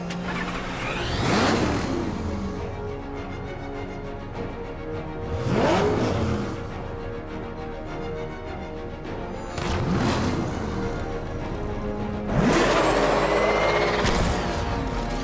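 Police squad car engines in a video game pursuit in Batman Arkham Knight, with four loud passes that each rise and fall as vehicles roar by and accelerate, over a rumbling engine bed and no talk.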